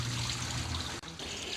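Spring water trickles and splashes from a faucet at a well: a steady, close stream that briefly cuts out and then resumes, with no talking.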